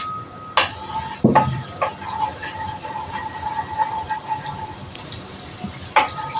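Chopped garlic drops into hot cooking oil in a pan while saluyot (molokhiya) is cooked, giving a clattering splash and then a steady fizzing sizzle with a few utensil knocks.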